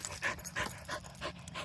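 A dog pants rapidly and steadily up close, a run of breathy huffs in a quick regular rhythm with no other sounds.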